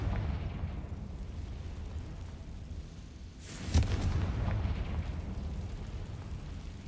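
A single Confringo blasting-spell explosion in the Hogwarts Legacy video game, one sudden burst and boom rising out of a quiet steady ambient background and fading quickly.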